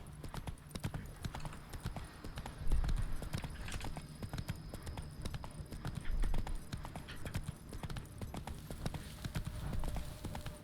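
Horse hooves clip-clop in a quick, uneven trot on hard ground in The Witcher 3, close and fairly loud, with a few heavier thuds mixed in.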